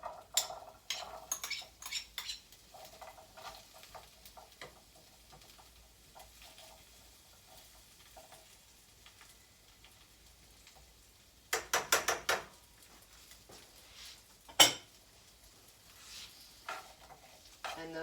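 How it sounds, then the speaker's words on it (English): Garlic and Swiss chard stems frying in a pan, with intermittent scraping and clattering of a utensil stirring against the pan over a soft sizzle, bursts of louder stirring between quieter stretches. "the garlic only takes about like 30 seconds to get fragrant, and then we're going to add our stems of our Swiss chard"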